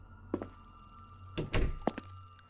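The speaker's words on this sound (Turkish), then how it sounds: "Hayır, dışarıdaki telefon çalıyor." An outdoor telephone ringing at a gas station in a horror video game, a steady electronic bell tone under a hum, broken by a few close thuds and knocks.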